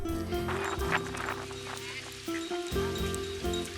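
Water birds call at a harbour with swans and sailing boats, loud honking and quacking calls overlapping close by, some rising and falling in pitch, with faint background noise.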